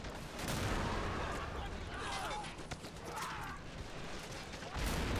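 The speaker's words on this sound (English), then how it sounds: "Can we get some suppressive fire on that MG gunner back there?" Rapid bursts of machine gun fire and explosions roar through a beach assault in the RobZ Realism Mod video game, loud and dense throughout, with a voice heard over the battle.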